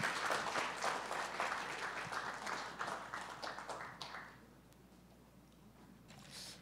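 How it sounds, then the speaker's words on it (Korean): Warm applause from the audience at a Korean university awards ceremony, dense clapping that gradually thins and fades into quiet hall ambience. "무대로 모실 때 여러분 뜨거운 박수로 환영해 주시면 감사하겠습니다"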